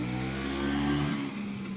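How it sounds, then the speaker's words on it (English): A classic old-school Vespa scooter in Italy going past, its small engine buzzing steadily and fairly loud, the pitch dropping as it moves away. "There's a Vespa."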